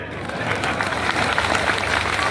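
Loud applause from an ex-servicemen's gathering, a thick burst of many hands clapping hard and fast for a couple of seconds amid a low crowd rumble.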